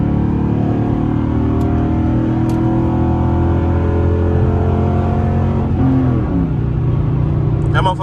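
A Chrysler 300C HEMI car accelerates hard on a highway with a loud, steady engine roar throughout, a gear change near the six-second mark, and faint clicks in the background.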